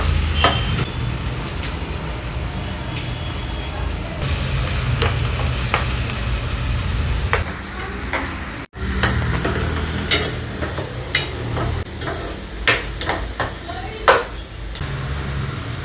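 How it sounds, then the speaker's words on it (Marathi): Onions fry in a pan with salt, giving a continuous loud sizzle with repeated scraping stirs and clicks of a spatula, close up, with faint low rumble in the background. "कांदा लवकर भाजण्यासाठी आपण मीठ टाकत आहे"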